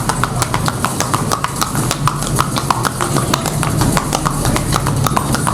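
Horse hooves clip-clopping steadily on a street while pulling a kalesa, a close, even rhythm of sharp hoof strikes continuing throughout with no talk.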